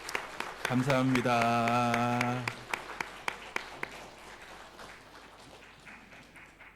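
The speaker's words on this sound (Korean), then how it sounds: "우리 박수를 한번 더 축복하겠습니다" A voice speaks briefly, then a congregation at a church worship service gives scattered, sparse claps for the combined church choir, the individual claps spaced out and fading quieter toward the end.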